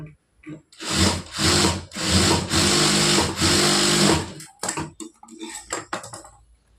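A sewing machine stitching a blouse runs in several loud close bursts of rapid whirring, the longest lasting a few seconds, followed by shorter stop-start spurts and mechanical clicks.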